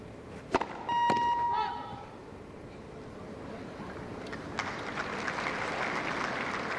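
A Wimbledon tennis crowd breaks into a broad wash of applause that swells and holds steady, heard at a distance after a few sharp ball strikes, with a commentator's voice over the start.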